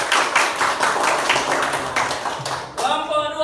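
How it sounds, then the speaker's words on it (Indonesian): Students in a classroom clap together for a presenting group, a dense patter of hands rising and settling over a few seconds, with a voice speaking near the end. "Ya, oke, tepuk tangan."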